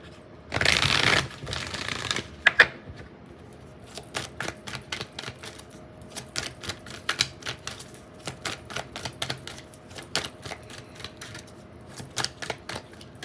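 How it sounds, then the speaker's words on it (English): Oracle cards being shuffled, a loud riffle burst at the start followed by a long run of quick, rhythmic card taps and flicks close by, with no talking. "I'm getting your oracle cards."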